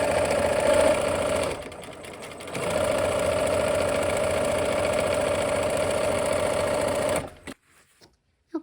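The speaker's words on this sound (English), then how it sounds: "I'm gonna sew from the corner here." A sewing machine joins fabric sections for a flower-basket project, running in a loud continuous whir from close by, easing briefly mid-seam, then resuming before stopping abruptly near the end.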